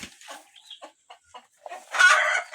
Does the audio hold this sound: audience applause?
no